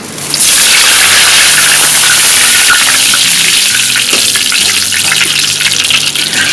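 Chillies frying in hot oil in a home Thai-Lao kitchen, a loud, steady, dense sizzle that holds close and continuous from start to finish with no voices.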